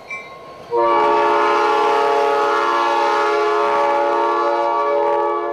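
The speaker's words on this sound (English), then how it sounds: "then hauled by freight train to Fort Benning, Georgia" A freight train hauling M1A2 tanks on rail cars, bound for Fort Benning, Georgia, sounds a loud, sustained multi-tone horn that starts abruptly and holds for several seconds above a low rumble.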